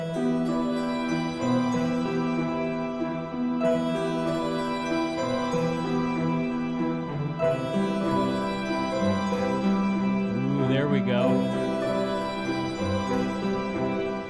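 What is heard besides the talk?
harpsichord sounding like a synth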